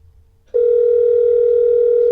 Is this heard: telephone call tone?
yes